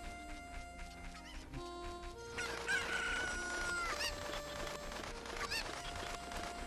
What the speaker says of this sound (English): I'm picking up this chicken because we need to round up all these chickens